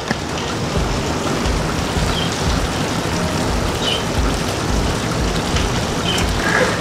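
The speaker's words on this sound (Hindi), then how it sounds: "तेज़ बारिश शुरू हो चुकी है" Heavy rain pours down steadily outdoors beside a highway-style cooking setup, a dense, continuous hiss of drops pattering on surfaces with no talking.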